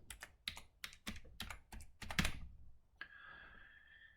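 Keys clacking on a computer keyboard in short bursts of quick clicks while a word is typed in, then a steady electronic hum takes over for the last second.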